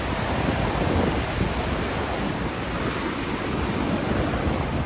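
A huge roaring waterfall throws up mist, its broadband rush steady, dense and loud throughout, with no voices.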